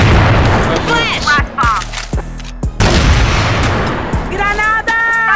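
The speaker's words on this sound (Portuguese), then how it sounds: "Granada!" Grenade detonation in the CrossFire shooter, heard amid a dense firefight: repeated loud booms and gunfire crack through continuous battle noise, with game voice callouts and chirping effects layered over the mix.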